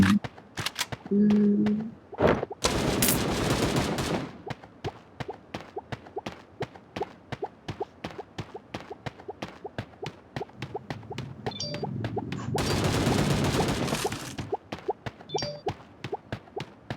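Rapid gunfire from the game PUBG, aimed at a target underwater, comes as a long run of sharp evenly spaced shots, with a couple of louder bursts and brief player voices in between.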